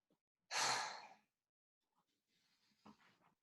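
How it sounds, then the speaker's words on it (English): One long, deep breath drawn in during a breathing exercise, close and clear, then a softer, fainter breath sound after a short pause, in an otherwise quiet space. "so inhale longer"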